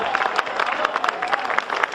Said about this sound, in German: ich denke, an dieser Stelle haben die Blümcher erstmal einen herzlichen Applaus verdient